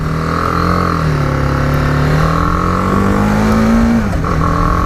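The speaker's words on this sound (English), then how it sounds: "Great little engine note to this." A 2018 BMW G310GS small motorcycle engine revs up loud and close, its pitch climbing steadily before dropping as it shifts.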